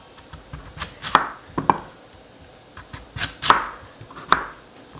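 A knife chops through a firm radish against a cutting board, sharp irregular thuds in small bursts, close and fairly crisp, with no talking.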